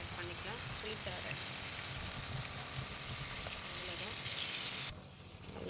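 Tamarind fish curry (meen kulambu) boiling in a pan, a steady close sizzling and bubbling hiss that runs continuously before cutting off abruptly near the end.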